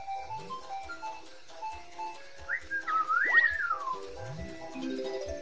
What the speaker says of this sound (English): Stop whistling, Ginger!